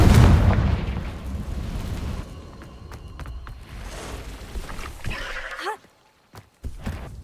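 Confringo spell blast in Hogwarts Legacy, a loud, booming explosion at the start that decays into rumbling debris, followed by quieter scattered sounds and a brief bleat-like cry before dropping away.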